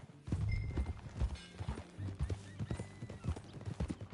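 Horse hooves clip-clop steadily in Red Dead Redemption 2 as a horse is ridden, the rhythmic thuds close and fairly loud, with a brief whinny and faint game sounds around them.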